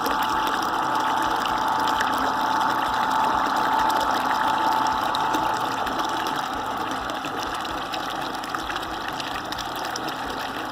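Homemade screw-type water pump running steadily, a continuous loud whirring motor hum mixed with gushing, churning water, unbroken throughout with no talking.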